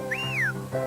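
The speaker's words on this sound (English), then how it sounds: "And the lie down." A shepherd's lie-down whistle command to a sheepdog: a single clear, loud rising-then-falling whistle lasting about half a second, followed by a low background hum.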